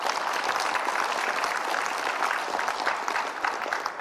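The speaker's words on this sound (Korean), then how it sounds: "윤희준 총장님께 다시 한번 뜨거운 박수 부탁드립니다." An audience at a forum on hydrogen hubs and green industrial parks gives the university president a warm round of applause, a sustained, even clapping that stays loud throughout.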